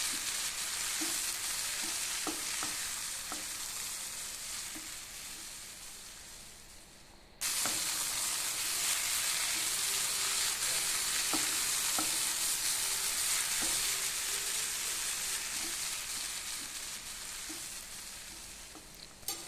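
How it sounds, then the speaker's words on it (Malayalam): Onions and ginger-garlic paste stir-fried in a pan for Malabar-style prawn roast, a dense continuous sizzle with occasional spatula scrapes, steady and close with a brief break partway through, no talking. "അതിൻ്റെ പച്ചമണമൊന്ന് മാറി ഉള്ളി നന്നായിട്ട് വാടി വരുന്നത് വരെ നമുക്കൊന്ന് ഇളക്കി കൊടുക്കാം"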